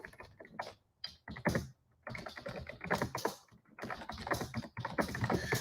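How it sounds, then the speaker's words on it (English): Computer keyboard typing comes in quick irregular bursts of clicks and clacks with short pauses between them, fairly close and alone, without talking. "just type this."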